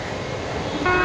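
Rumbling train engine noise, then a short, bright train horn blast cuts in at the very end.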